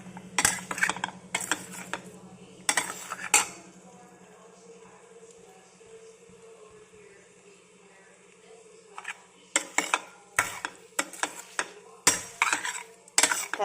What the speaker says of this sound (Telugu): ఇలాగా అంతా కలిసేటట్టు కలుపుకోవాలి